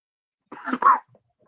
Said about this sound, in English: Oh, smoker's cough.